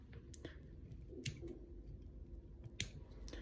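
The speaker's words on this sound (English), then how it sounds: "cut the butts of the bucktail." Scissors snip through the butts of bucktail fibers at a fly-tying bench, giving a few faint, crisp cuts at uneven intervals against a quiet background.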